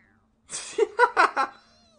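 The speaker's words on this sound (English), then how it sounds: "It's just a toy. It meows when you press on its head." Stuffed cat toy in Persona 5 Royal meowing when its head is pressed, a short electronic meow of several quick pulsing syllables, clear and close, alone over faint background hum.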